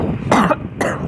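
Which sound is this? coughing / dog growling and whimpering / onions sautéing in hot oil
coughing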